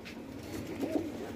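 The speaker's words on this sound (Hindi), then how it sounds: "लालचीना कबूतर है" A Lal China pigeon gives a soft, low coo, brief and fairly close, over faint background noise.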